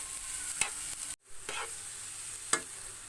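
Banana with sugar and grated coconut sautéing in a pan, with a low steady sizzle and a few sharp spatula clicks and scrapes against the metal, heard up close with no talking.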